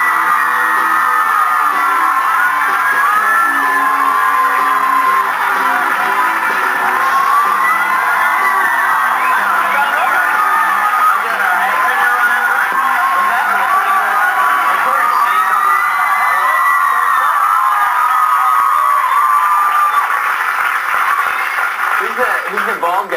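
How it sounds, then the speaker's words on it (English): A TV talk show studio audience screams loudly and continuously, a dense, high-pitched wall of shrieking and cheering that stays intense throughout. "That's the loudest scream I've ever heard."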